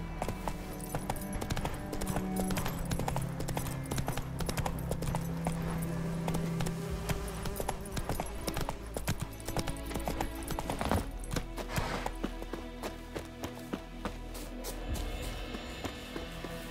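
Geralt's horse Roach gallops in The Witcher 3, a steady rapid clip-clop of hooves running throughout alongside game music and ambience, with a brief whinny.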